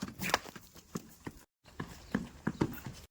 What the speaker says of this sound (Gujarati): જો સાગરભાઈ ઘોડીને રમાડે છે, જોવો તમે.